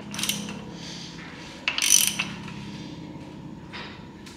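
Ratchet turning the crankshaft of an LS2 engine during teardown: a few separate clicking ratchet strokes and mechanical creaks, faint and close, with quiet pauses between them.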